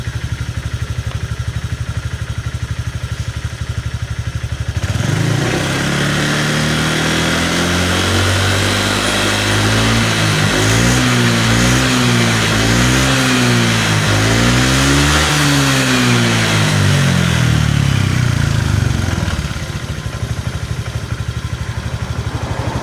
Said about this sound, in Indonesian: Kita coba geber